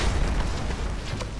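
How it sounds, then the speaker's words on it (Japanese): A bomb explosion in Final Fantasy 7 Remake produces a loud, continuous roaring rumble that fills the whole short stretch with dense, crackling noise. "爆発が派手すぎねえか。"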